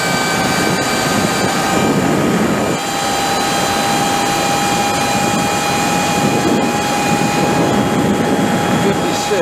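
A Sur Ron Chi 72V electric motorcycle at full throttle gives a steady high electric whine with wind roar, loud and continuous, and a rider may be talking over it.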